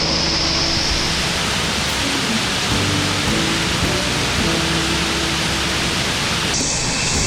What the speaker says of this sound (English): That's the top of the waterfall right there.